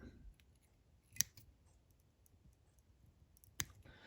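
Scissors snip thread on a fly-tying midge, two sharp, faint clicks a couple of seconds apart against a quiet background.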